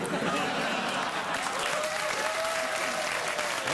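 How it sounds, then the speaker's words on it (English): Steady studio audience applause on a late-night talk show, dense and even throughout, with a faint whistle-like tone rising near the middle. "I don't know why you're applauding."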